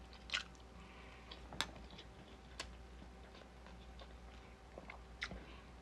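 Close, quiet chewing of crispy fried mushroom food, with sparse moist crunches and bites scattered over a low steady background hum.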